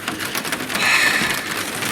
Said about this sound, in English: As you can hear, still wet, still miserable, still raining, still cold.